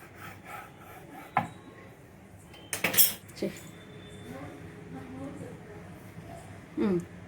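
A knife trims the edges of rolled onion samosa pastry on a board, making scattered scraping and tapping cuts, with one louder scrape near the middle, under a voice that talks throughout.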